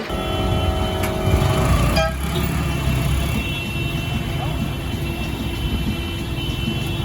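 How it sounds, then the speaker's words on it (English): Gridlocked Saturday-midday city traffic in San Salvador, with engines idling and a couple of short car horn toots early on, then a steady traffic drone and some faint talk. "the traffic is already getting gridlocked here"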